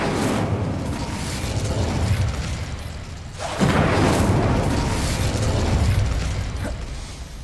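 A fire spell cast in Hogwarts Legacy: a loud, close roaring whoosh of flame that swells into a booming burst midway and then trails off, with no talking.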